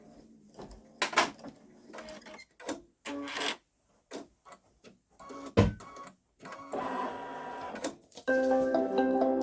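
A Baby Lock Solaris embroidery sewing machine stitches a design, with quiet intermittent mechanical clicks and whirs that end in a steadier, louder run of stitching, heard up close in a quiet room.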